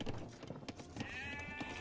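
Sheep bleating in the strategy game Age of Empires 2, a single wavering bleat rising out of busy in-game background sounds partway through.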